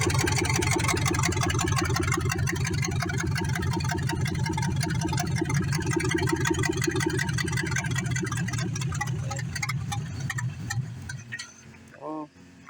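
A Ford Foxbody with a swapped-in LS V8 idles steadily with a rough, pulsing rumble, close and continuous, then falters and dies near the end.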